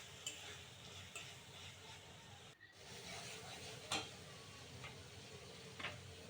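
Shrimp stirred into spice paste frying in a pan for a pumpkin curry, a soft steady sizzle with occasional scraping and clinking of the spoon, quiet and close.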